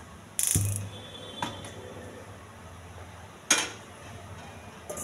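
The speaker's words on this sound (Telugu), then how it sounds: "స్టవ్ వెలిగించి గిన్నె పెట్టుకోవాలి." A gas stove clicks and catches alight with a brief metallic clatter, followed by a pot set down on the burner with a couple of light clinks, close and fairly quiet in a home kitchen where ivy gourd is being steamed.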